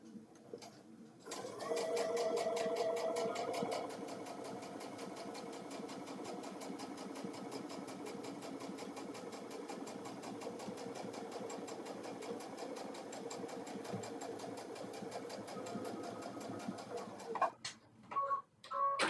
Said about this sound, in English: And then we're gonna sew the corners on.